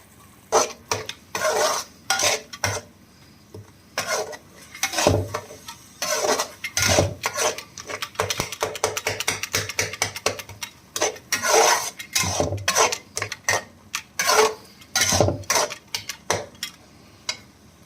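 A metal spoon scrapes and clanks in a pan while spiced potato and cauliflower roast with cumin, dried red chillies and garam masala. The stirring comes in irregular bursts, close and fairly loud, with no talking.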